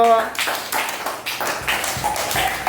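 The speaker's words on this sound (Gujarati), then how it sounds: "માહિરભાઈ માટે તાળી પાડી દો" Schoolchildren in a classroom at a primary school clap for a classmate, a run of quick, uneven claps from a small group over several seconds.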